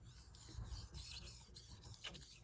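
Knife blade drawn across a fine polishing whetstone, giving a soft continuous rasping scrape with low rumbling strokes, close and fairly quiet, with no voices.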